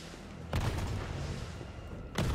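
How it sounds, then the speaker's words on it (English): Rocket launcher blasts in Resident Evil 3 Remake, two heavy booms about one and a half seconds apart over a dense rumbling game background, with no talk. "Is that a rocket? Bro. Rocket launcher? Really?"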